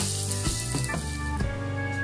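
Onions, green chillies and curry leaves sizzle steadily in hot oil in a pan, a close, continuous hiss with a few soft stirring knocks and no voices.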